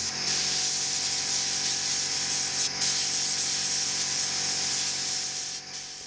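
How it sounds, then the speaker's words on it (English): Air compressor with a nozzle attachment blowing air to dry a car wheel area before Plasti Dip: a loud, steady close hiss of rushing air with two brief interruptions, tapering near the end. "I used an air compressor and an attachment just like this to blow air on the area"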